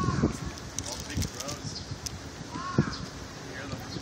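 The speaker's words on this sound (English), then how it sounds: "We have big crows here in Japan that that caw at a very deep octave." Big crows caw in Japan, several rough, deep calls scattered at a distance over wind and rustling outdoor noise.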